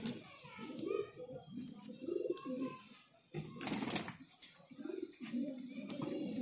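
Breeding pairs of pigeons coo softly in repeated low, throaty rolls from close by, and people talk faintly in the background.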